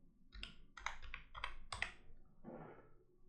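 A computer keyboard being typed on at close range, several quick bursts of keystrokes in an irregular rhythm with short pauses, no voice present.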